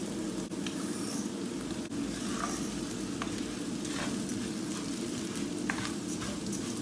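Vermicelli roasting in a pan with onions, carrots and meat for a Turkish orzo-and-vermicelli soup, a steady low sizzle with faint scraping stirs throughout, no talking.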